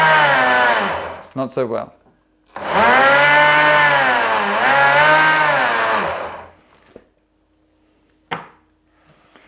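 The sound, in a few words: Sunbeam Cafe series blender blending pumpkin chunks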